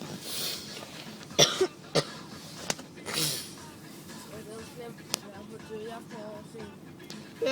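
A person coughs several times in sharp, separate bursts over a few seconds, close and moderately loud, with a quiet voice and background noise between the coughs.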